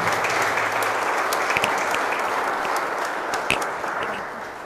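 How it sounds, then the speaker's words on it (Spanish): A church congregation at an Easter Sunday Mass applauds a raffle winner with sustained clapping from many people, filling the room and easing off slightly toward the end. "Le brindamos un fuerte aplauso."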